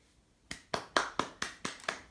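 Seven crisp hand claps at an even, brisk pace, close and clear against near silence.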